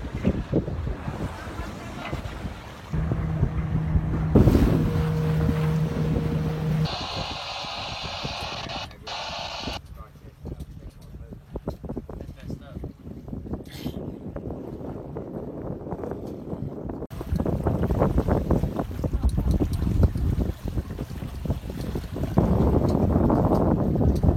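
A boat cruising toward Put-in-Bay with steady wind buffeting the microphone and rushing water and engine noise throughout, a brief voice and tone partway through, loud and continuous.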